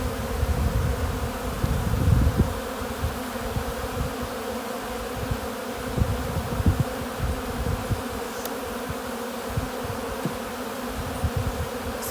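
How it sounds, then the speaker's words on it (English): Honey bees at a beeyard in early fall are shaken off hive frames into a box, making a loud, continuous close-up swarm buzz with scattered low thumps and bumps beneath it. "If I have kind of a big clump of bees like that, I tend to just shake them off so I don't squish them"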